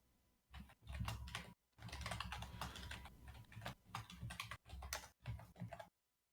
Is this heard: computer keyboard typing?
yes